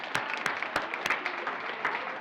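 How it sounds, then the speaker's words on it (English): A small crowd at a school board of education meeting applauds, a steady patter of clapping with a few sharp, louder claps standing out. "you deserve a round of applause"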